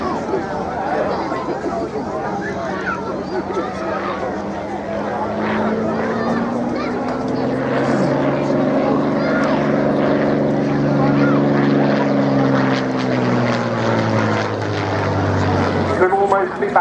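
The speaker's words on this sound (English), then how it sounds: "watching this aircraft going through its paces" A 1930s Hawker Fury biplane flies a display at an airshow at Cosford, its piston engine and propeller droning loudly and shifting in pitch as it passes, with crowd chatter and commentary underneath.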